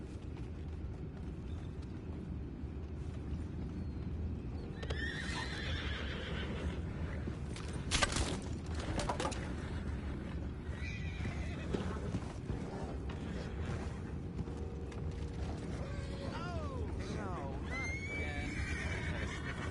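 In the video game Red Dead Redemption 2, horses whinny several times over a constant low rumble, with hooves clopping and occasional creaks; voices talk intermittently.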